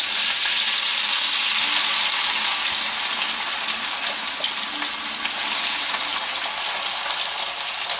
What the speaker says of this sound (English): we're going to fry the potatoes and onions